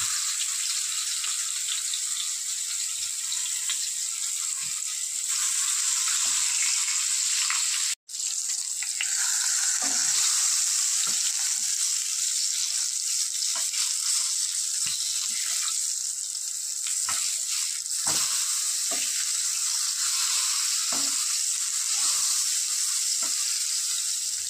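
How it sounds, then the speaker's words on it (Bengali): Eggplant pieces fry in hot mustard oil with a loud, continuous bright hiss that cuts out for a moment, then resumes with scattered pops and stirring knocks, with no voices. "বেগুনগুলো ভেজে নেব"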